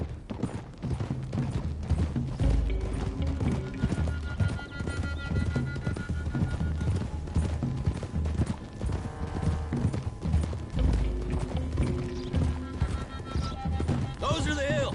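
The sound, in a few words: horses galloping and clip-clopping in the video game Red Dead Redemption 2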